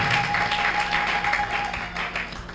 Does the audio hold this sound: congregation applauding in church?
yes